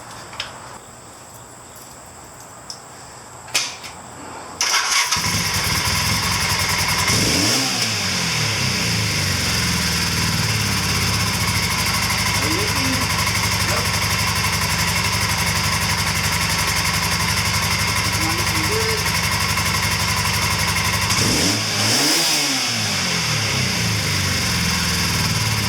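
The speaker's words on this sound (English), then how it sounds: "let's go ahead and give the bike a start and just make sure it's going to idle nice" A 1983 Honda CM450A automatic motorcycle engine starts after a few seconds of quiet and settles into a steady, close idle, with a couple of brief revs rising and falling in pitch.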